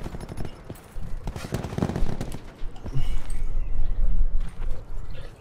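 Rapid bursts of assault rifle fire crackle through a first-person shooter match, dense overlapping shots for several seconds, loud and close, with game sound effects mixed in.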